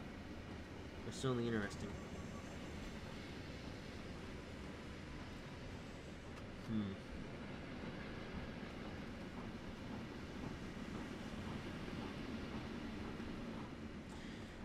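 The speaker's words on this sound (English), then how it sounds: "Take a listen to the grunts on these coaches" Passenger coaches in Trainz Simulator 3 rumble along a single-track line with a steady rolling drone, broken by two short, low grunting groans, while someone talks quietly over it.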